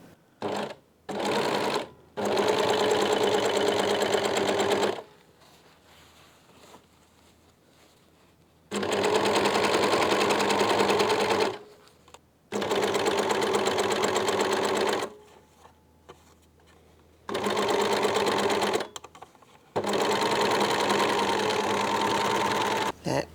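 Sewing machine stitching a fly guard for a zipper on trousers, loud close whirring bursts of several seconds each, separated by quiet pauses as the stitching stops and restarts.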